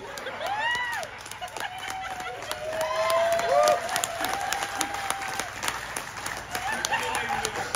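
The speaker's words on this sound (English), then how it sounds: "They're clapping for you" Audience on a Carnival Horizon group cruise breaks into steady applause and clapping, mixed with crowd chatter and some cheering, rising slightly midway and continuing throughout.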